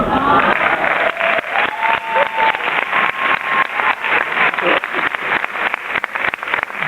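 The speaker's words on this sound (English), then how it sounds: "I will accept applause for that" An audience at a Boston Conservatory doctorate speech claps continuously, a dense and fairly loud patter of many hands that sounds slightly muffled.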